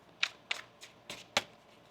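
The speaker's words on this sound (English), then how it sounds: "One more shuffle here." Tarot cards being shuffled by hand during a reading, heard as five quick crisp riffling bursts spaced unevenly over two seconds, close and clear with no talking.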